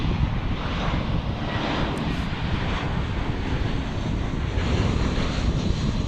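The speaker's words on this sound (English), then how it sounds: "So here we've got an Airbus A321, almost to the top of the hour." An Airbus A321 at DFW Airport produces a steady, loud broadband jet roar that holds constant throughout, mixed with outdoor wind buffeting on the microphone.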